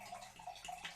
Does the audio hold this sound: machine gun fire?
no